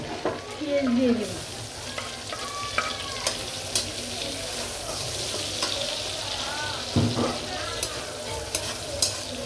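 Onions frying in a pan for a hilsa fish curry with raw papaya, a loud continuous sizzle with occasional spatula scrapes and knocks throughout and faint background voices at the start.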